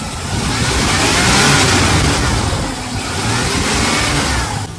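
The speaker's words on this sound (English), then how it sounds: "you want to rev the engine up so you can see if the number here is changing" A 1995 Ford Explorer engine being revved up from idle, a loud close roar that builds, holds, dips slightly and rises again before easing off, with no talking.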